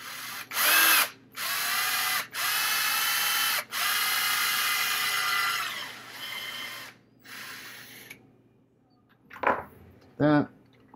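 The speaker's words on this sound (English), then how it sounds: "Drill a hole in the arm here." A power drill bores a hole in the arm of a 1/4-scale custom Morbius figure kit, whirring in several bursts of a few seconds each, close and loud, then stops; a few brief voice sounds follow near the end.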